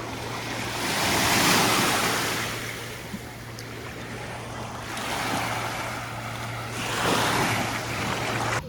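Sea waves at a beach in Portugal, surf rolling in repeated slow swells with steady wind noise across the microphone, loud and close, no talk.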